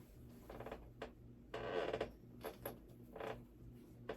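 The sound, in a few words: office chair squeaking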